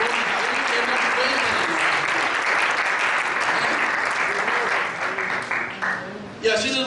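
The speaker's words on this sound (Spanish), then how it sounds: "Vamos a darle un aplauso a nuestro Señor" A church congregation applauds together in a steady, dense wash of clapping that holds loud for several seconds before thinning out near the end.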